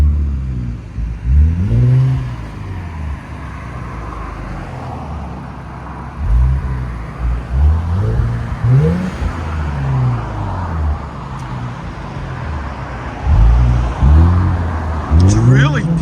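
Infiniti Q60 3.0L twin turbo V6 with an aftermarket exhaust revs repeatedly outside, deep rising and falling engine swells, loud and close, separated by a steady idle rumble.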